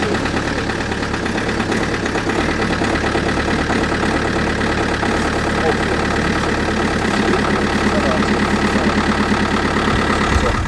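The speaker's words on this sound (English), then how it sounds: "As you can hear, the car misses a bit." Car engine idling with a failing injector, a steady loud rumble with an uneven, occasionally stumbling beat from the misfire, running continuously close up.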